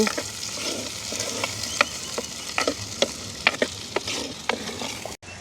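Onions and green chillies frying in hot oil in a village kitchen, a busy close sizzle with repeated sharp scrapes and taps of a spoon stirring the pan, no voices.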